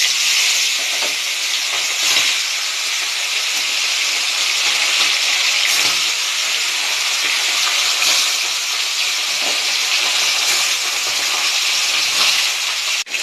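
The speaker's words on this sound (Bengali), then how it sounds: "এবার আমি এই তেলের মধ্যে মাছগুলোকে এক এক করে সব ভেজে নেব।" Fish fries in hot mustard oil in a kadai, giving a loud, continuous, bright sizzling hiss with faint crackles throughout, close up and without speech.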